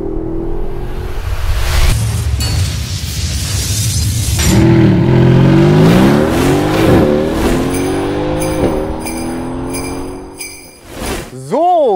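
A Mercedes SLS AMG sports car's 6.3-litre engine roars and revs, rising and falling in pitch as it accelerates, loud and close, ending with a sharp final rev under some talk.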